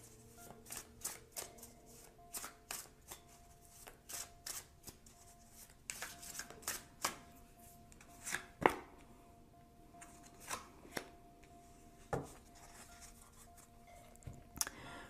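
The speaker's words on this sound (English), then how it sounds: "Now let's choose two cards for possible outcomes." Tarot cards shuffled and drawn by hand at close range, with a string of soft, crisp riffles and slaps at irregular intervals and quiet pauses between them.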